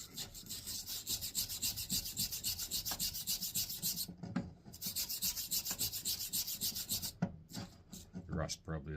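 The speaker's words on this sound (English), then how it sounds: "File is struggling to cut it." A metal file is worked over a rusty steel axe head in steady rhythmic rasping strokes, close and fairly quiet, with a couple of brief pauses between runs and no speech.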